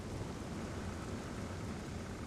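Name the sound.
rain and thunder in Zelda Skyward Sword video game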